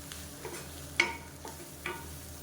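Greens are stirred in a hot pan with a few light scraping strokes over a soft, quiet sizzle.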